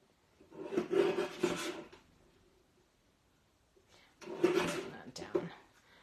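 Paper is trimmed with a craft trimmer for a handmade faux step card, two soft rasping slides a few seconds apart, close and quiet, with someone talking over the cutting.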